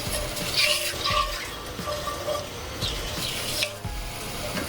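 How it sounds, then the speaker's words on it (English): Whole spices and cloves sizzling in hot oil for biryani, a steady close crackle with soft stirring scrapes, and no voice. "So I'm going to add that to the oil and let it sizzle for about 30 seconds"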